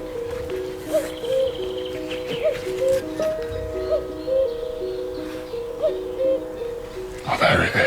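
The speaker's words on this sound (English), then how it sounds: "I've been hearing a male cuckoo calling" A male common cuckoo's two-note call repeating steadily, about once a second, over faint background ambience, ending with a brief rustling noise.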